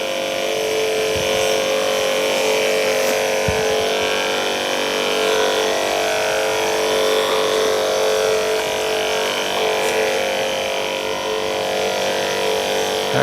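A Victory Innovations electrostatic sprayer runs low on chemical and sucks air, making a loud, steady mechanical whir and hiss that holds unbroken for the whole stretch with no talking.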